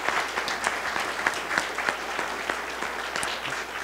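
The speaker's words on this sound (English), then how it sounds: "I think they deserve a round of applause for making it" An audience at a regional awards address bursts into steady applause for a finalist, dense clapping from many hands filling the room at a fairly close, even level throughout.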